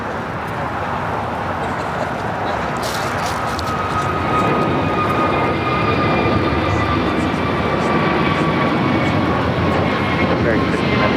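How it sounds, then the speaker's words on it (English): A United Airlines Boeing 787-9 Dreamliner takes off at LAX. A broad, distant jet roar swells about a third of the way in, then holds as a loud, steady rumble. "United Airlines flight 198, 787-9 Dreamliner, number 2 for takeoff here on the south side."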